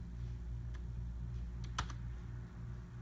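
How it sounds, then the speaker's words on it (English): Someone types on a computer keyboard in sparse, soft key taps over a steady background hum, with no talking. "so I'm going to type something"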